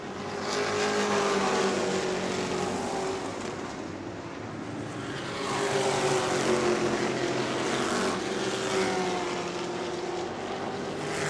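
Race cars lap the New Smyrna racetrack as a steady, fairly distant engine drone, swelling and fading in long waves as the pack passes through the corners.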